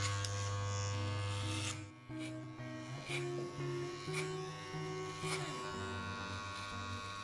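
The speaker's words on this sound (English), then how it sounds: "Look at the angle that you must hold the clipper" Electric hair clipper cutting hair down to a number 2 guard, a steady close buzz whose pitch shifts and dips as it moves through the hair, with no talking.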